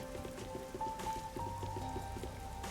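Steady patter of rain in the video game Rain Code, an even wash of falling drops under faint in-game music tones, fairly quiet throughout.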